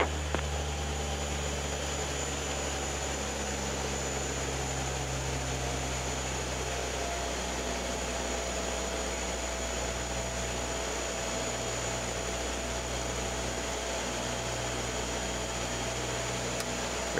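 Dash 8 turboprop engines at takeoff power, a steady loud broadband roar with a constant drone throughout, heard from inside the cockpit with no talk.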